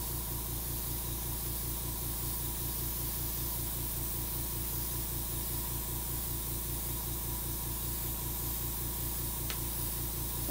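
A steady, even hiss of paint spray runs continuously at low volume, with a faint rhythmic mechanical hum underneath throughout.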